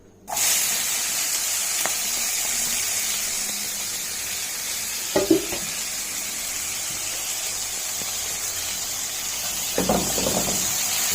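Tomatoes, garlic, onions, scallions and Scotch bonnet pepper hit hot olive oil with a sudden loud hiss that settles into a constant sizzle, broken by a couple of brief utensil clanks, no talking.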